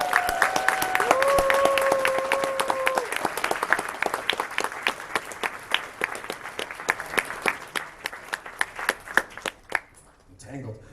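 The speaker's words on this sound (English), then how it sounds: "So let's give them a round of applause." Applause from an audience at a closing ceremony, starting full under a brief sustained tone, then thinning into scattered individual claps that fade out by the end.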